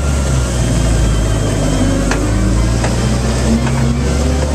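1948 Dodge Red Express truck engine driving through a quiet town street, a steady mid-pitched engine drone with gear shifting, sounding loud and close from inside the cab throughout.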